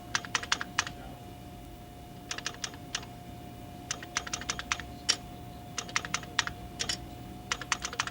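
Bursts of quick keystrokes come from computer terminal keyboards in an office, clicking in rapid clusters with short pauses between them, over a faint steady electronic hum.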